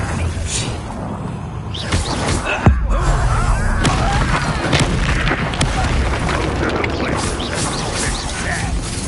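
Expelliarmus spell cast in Hogwarts Legacy: a booming, whooshing magical blast with mechanical clatter, loud and continuous, with a sharp impact near the middle over dense game ambience.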